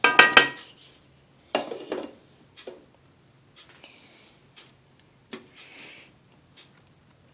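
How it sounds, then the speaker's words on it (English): Spoon stirring vegetable beef soup in a pot, a few sharp clinks and scrapes against the metal at the start, then sparse, quieter taps and scrapes with pauses between them. "Give that a little stir."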